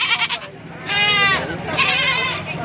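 Several goats, including big bucks, bleat in quick succession at a goat sale, loud and close, with long wavering cries overlapping amid farmyard noise.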